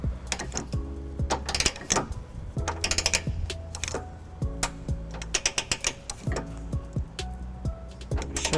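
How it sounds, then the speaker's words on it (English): Torque wrench ratcheting repeatedly as M12 trailer hitch bolts are tightened to 86 foot-pounds on a 2012 Toyota Prius Plug-In, a busy run of close, rapid metallic clicks in short bursts with brief pauses. "We can go ahead and tighten down our M12 bolts to 86 foot-pounds."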